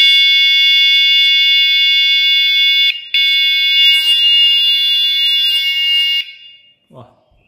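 Loud electronic horn on an electric bicycle gives a piercing, steady high-pitched tone, broken by one short gap, sounding close for about six seconds before stopping abruptly, followed by a soft handling noise.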